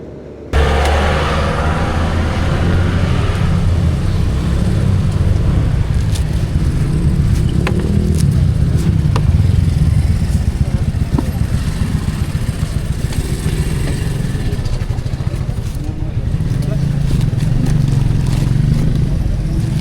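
Yamaha NMAX Turbo scooter climbing uphill on a road from La Trinidad, Benguet toward Baguio City, its engine droning steadily and loud close by, with wind rumble throughout and no talking.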